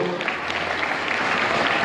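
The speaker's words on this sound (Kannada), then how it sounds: "ಅವರೆಲ್ಲರಿಗೂ ಒಂದು ಜೋರಾದ ಚಪ್ಪಾಳೆಯನ್ನು ತಟ್ಟಬೇಕು" An audience at a welcome ceremony during a temple milk-feeding festival claps loudly and continuously, a dense, close burst of applause throughout.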